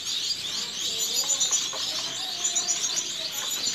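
Bengalese society finches in a large breeding setup of about 150 pairs give quick, high chirps and tweets, soft and scattered over a quiet background, several birds calling at once.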